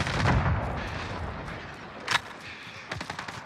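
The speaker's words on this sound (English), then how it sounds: "Allied cruise missile launched." A cruise missile strike in Call of Duty: Modern Warfare rumbles in at the start, followed by a sharp blast and a few scattered cracks of distant gunfire.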